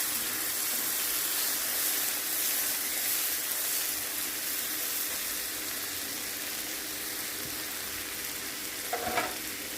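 Curry frying in a pan for Jamaican-style curry shrimp pasta, a steady bright sizzle with occasional stirring scrapes, close and continuous, with no talk.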